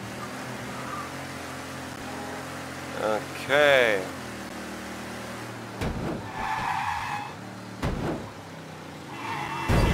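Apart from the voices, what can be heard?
car driving and skidding in video game Mafia 3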